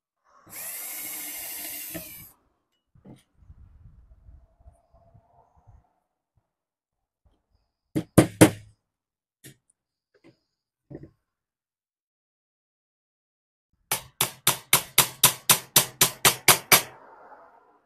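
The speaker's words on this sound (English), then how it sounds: "little anvil is just so you're not banging on the plastic table" A metal hammer strikes a small anvil on a workbench, first in a brief double tap and then in a steady run of about a dozen sharp, evenly spaced blows, separated by quiet stretches.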